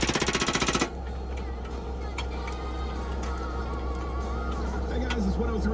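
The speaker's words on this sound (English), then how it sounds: "first time running a jackhammer" A jackhammer breaking limestone ground for a house pad pounds in a rapid, loud, steady rattle for the first second, then gives way to a continuous low engine drone with scattered knocks and faint background voices.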